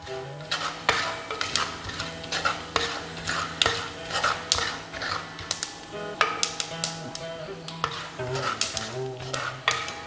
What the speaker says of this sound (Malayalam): എള്ള് പൊട്ടി വരുന്നുണ്ട്